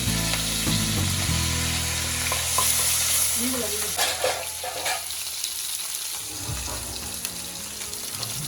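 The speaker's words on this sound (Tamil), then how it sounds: "கருவேப்பிலை, கொத்தமல்லி, அப்புறம் பச்சை மிளகாய் இதெல்லாம் போட்டு மெதுவாக கிளறி விடுங்க" Curry leaves, coriander and green chillies hit hot oil in a pan for sago khichdi and are stirred slowly, bringing a dense steady sizzle with occasional scrapes of the spoon that eases slightly after the first few seconds.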